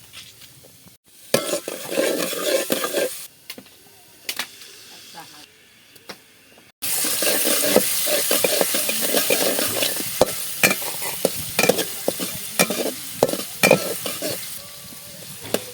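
Onions fry in a pan over a clay stove, first in short sizzling bursts with scraping stirs and quiet gaps, then as a loud, steady hiss with repeated stirring clatter.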